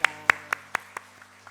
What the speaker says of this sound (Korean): 큰 축복의 박수 부탁합니다.